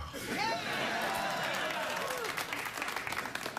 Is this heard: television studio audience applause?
yes